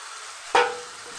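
Spice paste with ground nuts hits a hot pan for a hilsa fish curry, a sudden loud sizzle that bursts out after near silence and then tapers into a steady fry.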